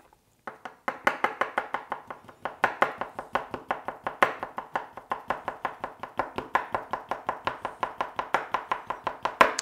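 A knife chopping repeatedly through a cake on a board, marking and trimming the end pieces: a fast, steady run of sharp, close, evenly spaced taps that carries on without pause and with no talking.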